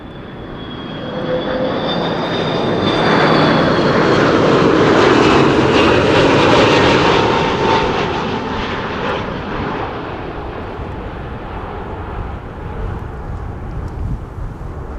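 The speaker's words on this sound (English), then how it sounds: "Arriving from Vancouver, Canada, KLM flight 682. This is an A330-200." KLM Airbus A330-200, an 18-year-old wide-body, arriving at Amsterdam Schiphol on a windy day, its engine roar swelling to a loud peak overhead and then easing into a steady rumble with wind noise.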